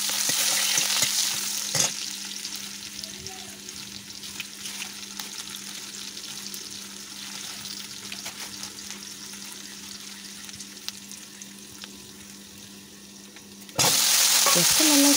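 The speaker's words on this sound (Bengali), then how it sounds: "কড়াইতে তেল দিয়ে দিলাম ফোড়নে পেঁয়াজ কুচি" Chopped onions crackle and sizzle in hot oil in a wok during village-style home cooking, with a steady frying hiss, occasional stirring clinks and a louder burst of sizzle near the end.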